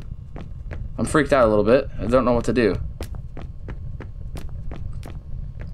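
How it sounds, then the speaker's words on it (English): Creepy footsteps from an alien wraith in the horror game Immure, heard as faint, evenly spaced soft thuds that keep going after someone briefly speaks nervously over a low background hum. "Okay, where are these footsteps coming from?"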